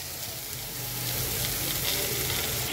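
Drumsticks in mustard paste fry in a pan, giving a dense, steady sizzle close by that grows a little louder halfway through, with no voices.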